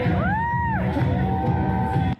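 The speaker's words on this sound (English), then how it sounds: "And people are cheering." Crowd cheering for Donald Trump as he moves his hands to music, a dense roar of voices with a rising whoop, continuous and loud before cutting off abruptly.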